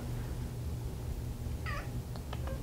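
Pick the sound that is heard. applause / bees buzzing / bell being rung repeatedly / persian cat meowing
persian cat meowing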